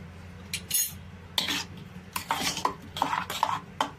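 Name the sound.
mixing salt into gongura chutney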